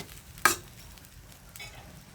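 Snakehead fish curry with flat beans and potatoes in a pan, stirred briefly over high heat; a faint simmering sizzle with one sharp clank of the stirring spoon near the start, and no talk.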